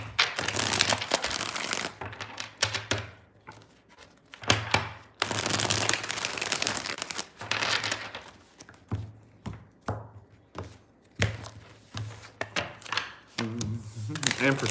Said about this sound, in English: 2 more shuffles here, 2 more.